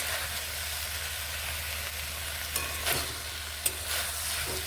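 Parboiled flat beans stirred and fried in a pan, a continuous close sizzle with a few sharp scrapes and clicks of the spatula toward the end.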